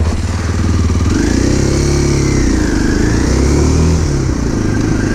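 A Kawasaki KLX 230 motorcycle in Thailand revs up close and loud, its engine pitch rising and sweeping through gears as it pulls away, with no talk over it.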